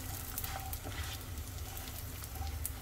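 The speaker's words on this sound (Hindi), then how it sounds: "गोंद को हमको लो फ्लेम पर ही फ्राई करना है तो गोंद को आगे पीछे करके इस तरह से फ्राई करेंगे" Edible gum (gond) frying in hot ghee over a low flame gives a steady, soft crackling sizzle with faint pops, close and unbroken, with no talking.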